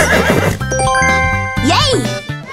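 Horse neighing within a children's animal quiz game, a short whinny over bright jingling music and a voice.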